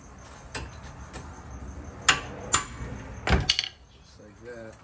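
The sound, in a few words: hitting a stuck brake rotor with a tool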